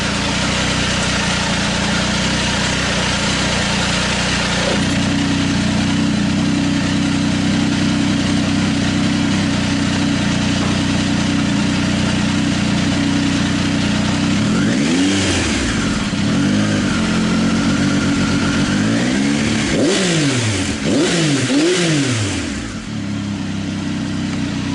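A 2019 Triumph Tiger 800 XRT motorcycle fitted with a Fuel Diablo carbon muffler, baffle removed, runs close and loud at a steady idle, then blips the throttle in several sharp revs that rise and fall.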